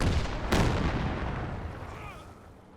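Artillery fires in the Company of Heroes 2 video game, a single heavy boom with a sharp attack followed by a long fading rumble, close and loud.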